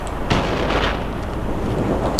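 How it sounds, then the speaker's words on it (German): Gunfire in the video game Crysis: a dense, loud barrage of booming shots with several stronger bursts standing out over a continuous rumbling background, without talk. "Die Schüsse haben mich abgelenkt."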